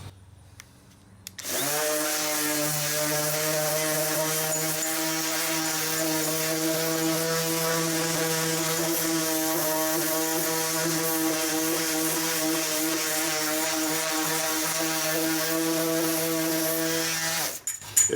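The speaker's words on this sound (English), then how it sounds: "I do have an orbital sander, and I suggest you use a DA. I just got 220 in here." An orbital sander loaded with 220-grit paper drones steadily and loudly against a car fender being prepped for paint at home, starting up sharply and running for about sixteen seconds before stopping.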